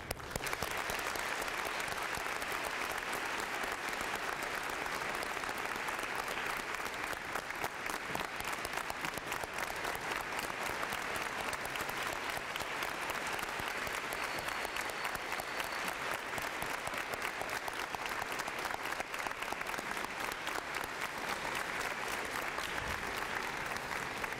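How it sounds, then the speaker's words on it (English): Assembly audience at a high school Veterans Day gathering gives veterans a long, sustained round of applause, dense clapping from a large crowd that holds steady and loud throughout. "give all of our veterans here a round of applause"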